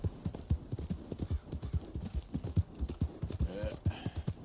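A horse gallops in Red Dead Redemption 2, with steady rapid hoofbeats thudding in a rolling rhythm and a brief snort or whinny near the end.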